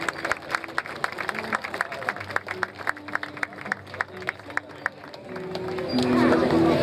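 A crowd applauds to welcome the protector of Anzoátegui State and the attorney general at a public event, with steady clapping under ongoing talk and loudspeaker voices, swelling into louder applause and cheering near the end.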